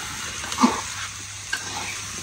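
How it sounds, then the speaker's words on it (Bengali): Fish frying over a clay stove, a steady soft sizzle with a couple of brief clinks or stirring knocks, close by and without any talk. "এখানে মাছ ভাজা হইতেছে"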